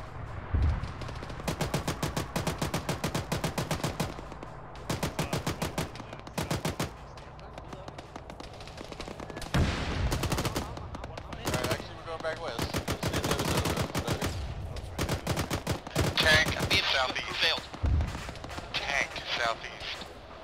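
Gunfire from a BMP armored vehicle in a military game: repeated rapid machine-gun bursts with loud separate cracks and blasts, sometimes close and sometimes farther off, with radio-style voices talking in between.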